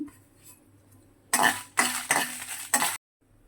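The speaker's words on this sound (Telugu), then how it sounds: "కొన్ని మిరియాలు కొంచెం జీలకర్ర కొన్ని ముక్కలు వేసుకోవాలి వేసుకొని లైట్గా ఫ్రై చేసుకోవాలి" Peppercorns, cumin and other pieces are fried lightly in a pan for tamarind pulihora, with a few loud bursts of sizzling and stirring close by, set between stretches of quiet.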